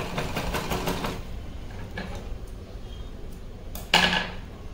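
A sewing machine stitches a small doll's dress, its rapid mechanical chatter running in bursts near the start, then pausing amid light handling noises and a sharp clack near the end; nobody speaks.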